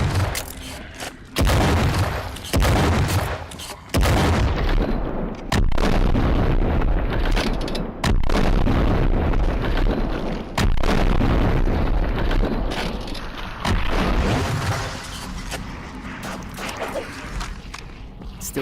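Loud booming explosions go off repeatedly in a cooperative action game boss fight, heavy deep blasts stacking one after another over a long stretch with rumbling between them.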